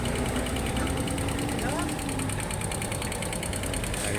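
A Honda TMX 155 motorcycle engine idles close by, a steady mechanical chug with a fine rhythmic ticking throughout, while someone speaks briefly over it.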